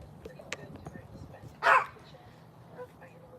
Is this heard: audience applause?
no